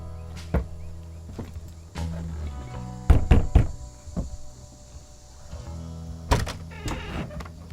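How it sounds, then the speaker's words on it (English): Knocks land on the front door of a farmhouse, a few sharp wooden thuds in short clusters, close and loud against a quiet background. "I made my way up the steps to the front porch and knocked."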